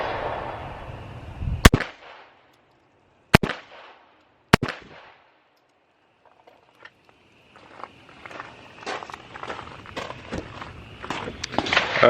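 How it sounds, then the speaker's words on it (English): Three loud, sharp pistol shots fired at a target from about 7 yards, spaced over roughly three seconds, followed by quiet shuffling, footsteps and faint handling noise outdoors. "let's go back to about 7 yards, take 3 shots at this"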